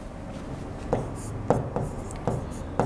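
A pencil held in a compass sweeps an arc of 7 cm radius across paper in a geometry exercise, giving quiet scratchy strokes with several soft taps at a steady rhythm, close and faint.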